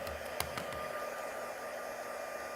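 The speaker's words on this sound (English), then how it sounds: "my dryer here" A hair dryer blows a steady, even whir while drying glitter paint on a palette, with a few brief clicks and knocks near the start as it is switched on and handled.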